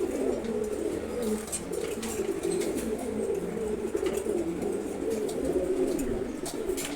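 Pigeons, including racers, coo continuously in a loft, a dense layered murmur of throaty rolling coos with faint chirps and flutters, close and steady with no talk.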